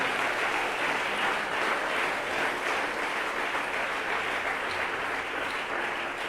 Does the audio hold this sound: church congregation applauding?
yes